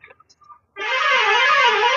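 A vehicle horn on the Chilpi Ghat mountain road in Chhattisgarh: after a few faint ticks, a single loud, steady, wavering honk begins and holds to the end, close by.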